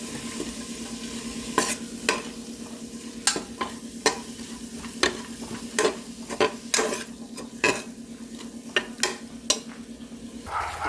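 Small onions sautéing with salt in a pan: a constant sizzle punctuated by regular, clear clinks and scrapes of a spoon stirring, close and alone without speech.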